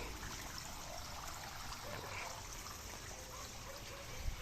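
Water trickles steadily through hydroponic NFT pipes in a home-built growing setup, a faint, continuous dribbling flow with no distinct pauses.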